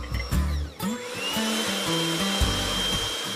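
An electric mixer whisking four egg whites in a bowl for a hazelnut meringue, a close, loud motor whir that shifts in pitch as the speed changes, with no talking.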